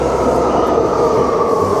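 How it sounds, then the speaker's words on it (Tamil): A New York City subway train rumbles steadily and loudly into a station, a continuous low roar with no pauses or voices. "எப்படி வருது பாருங்க மெட்ரோ"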